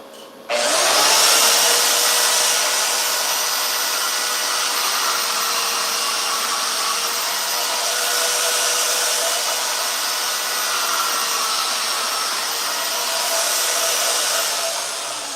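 A power tool cutting welded steel test pieces in half gives a loud, steady, high-pitched whine that starts abruptly and holds level for the whole clip with no talk.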